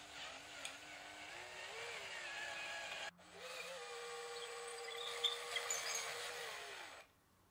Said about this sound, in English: I drill a hole for the wires to pass through to the control cavity.